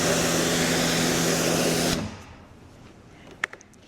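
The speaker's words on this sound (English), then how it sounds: "So what we're going to start off with is we're going to rinse this down." A pressure washer sprays water onto a rubber car floor mat in a loud steady hiss for about two seconds, then cuts off, leaving a quiet room with a couple of faint knocks.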